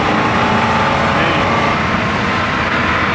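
A 1973 Mustang Mach 1 V8 revs loud and close, a steady engine roar held through 4,500 RPM shift points with no break or voices.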